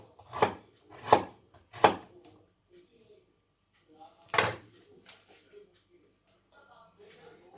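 A knife cuts through fresh ginger on a board in a home kitchen, giving three sharp, close chops in quick succession and a fourth a moment later, with faint scraping and light handling noises between them.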